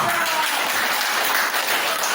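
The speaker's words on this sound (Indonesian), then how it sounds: "Tepuk tangan." A class claps after a group presentation on computer components in a school lesson, a steady dense round of hand-clapping that fills the whole moment at close range.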